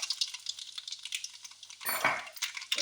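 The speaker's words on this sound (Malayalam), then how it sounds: "കടുക് പൊട്ടിയിട്ടുണ്ട്" Mustard seeds pop and splutter in hot oil in a pan on a gas stove, a close, crackling burst with sharp clinks of a utensil, growing busier near the end.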